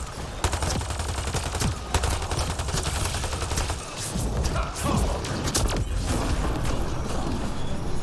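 Rapid gunfire rattles in dense, continuous bursts of sharp cracks, loud and close, with mechanical clatter mixed in and no speech.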